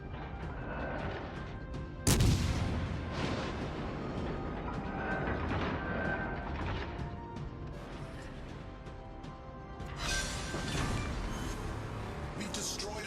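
Naval gunfire in a video game as an enemy battleship burns and is destroyed: a sharp heavy blast early on, then continuous rumbling explosions and crashes, with another burst of booms later and voices talking over the battle.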